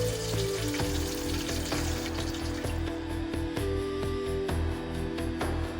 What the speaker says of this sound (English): we're going to give this a nice shallow fry for our catfish